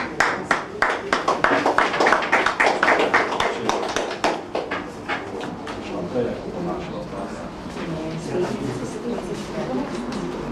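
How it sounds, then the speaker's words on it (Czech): Applause from a group at a café gathering, a burst of sharp, rapid hand claps that starts loud and gradually thins into a softer patter, with voices murmuring underneath. "Potlesk, prosím."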